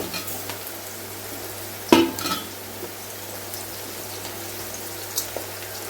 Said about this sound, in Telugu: కరివేపాకు, ఇవి కొంచెం వేగడానికి